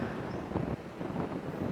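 Steady outdoor wind buffets a microphone at a breezy spot in General Santos, a low rumbling gusty rush that swells and dips without a break, with no talk.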